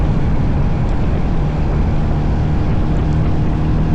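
Royal Enfield Hunter 350 motorcycle accelerating to overtake on a rideout to Dungeness, a loud, close, continuous engine roar blended with heavy wind rush.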